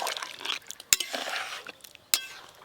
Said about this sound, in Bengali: এবার অল্প জল দিচ্ছি